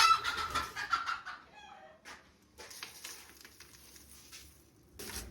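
Hens cluck loudly near the start inside a chicken coop on a goat farm, then fade to softer scattered clucks and rustling before a brief louder burst at the end.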